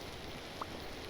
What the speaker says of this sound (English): It's been freaking raining non-stop.